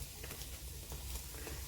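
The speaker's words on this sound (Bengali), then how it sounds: "মচমচে করে ভেজে নিচ্ছি" Stuffed paratha frying crisp in oil on a tawa, giving a faint, steady sizzle with light crackles throughout.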